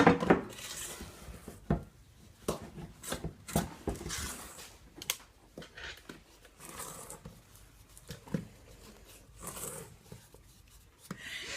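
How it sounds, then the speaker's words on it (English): A utensil stirring flour into cookie dough by hand in a bowl, with soft irregular scraping and tapping knocks against the bowl, close and fairly quiet. "We're going to add the flour into it and stir it by hand."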